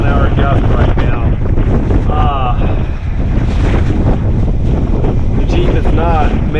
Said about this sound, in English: we're easily up to 25 to 30 mile an hour gust right now